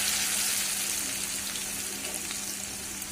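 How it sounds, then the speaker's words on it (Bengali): Potato pieces fry in hot oil with a steady, close crackling sizzle that fades slightly toward the end, with no voices. "আর এই তেলের মধ্যে এবার আমি আলুটা ভেজে নেব"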